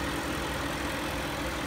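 The stock 3.5-litre engine of a 1999 BMW 735i 7-series idles steadily and close up, a low, even hum that holds without change for under two seconds.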